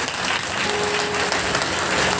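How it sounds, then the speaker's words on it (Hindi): A crowd claps at a religious katha discourse, producing a dense, loud, continuous burst of applause that fills the whole short stretch. "ताली तो बजाओ ढंग से"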